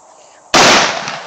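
A Mosin-Nagant rifle shot fired at an engine goes off as a single sudden loud blast that cuts in from near quiet and rings on briefly.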